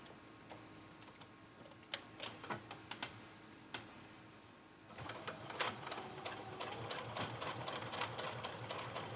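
A sewing machine top stitches a zipper pouch, with scattered quiet clicks and ticks at first, then a steady, close mechanical whirring run of stitching.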